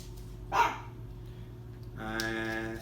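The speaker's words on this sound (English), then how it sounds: "It's my dog, so hopefully he doesn't make too much of a noise." A pet dog gives a short bark-like burst, then a longer whining, whimpering tone, heard fairly close over a steady low hum in an indoor art demonstration setting.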